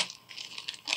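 A plastic bag full of beads crinkles and rustles in short, light bursts, close and fairly quiet.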